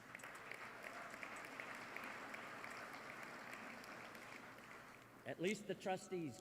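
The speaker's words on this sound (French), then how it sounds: "les administrateurs de la Fondation ont applaudi" Applause from Rotary Foundation trustees at an assembly, a steady dense patter of clapping that fills the room until a voice breaks in near the end.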